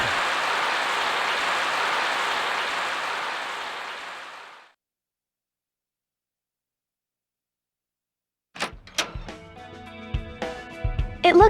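Heavy rain pouring down in the video game Growlanser II, a dense steady roar of drops that fades out around four seconds in, followed by silence and then a few sharp clattering game sounds.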